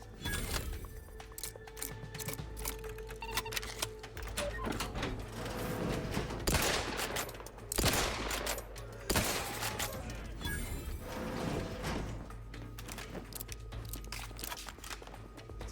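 Shotgun fire in the video game Outer Worlds 2 against automechs, several loud sharp blasts with crunching impacts and mechanical clatter across a busy combat stretch, with game voices in between.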